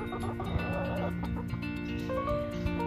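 Backyard hens in a chicken coop cluck softly and intermittently, with short close calls scattered over a quiet, steady background and a faint voice in the mix.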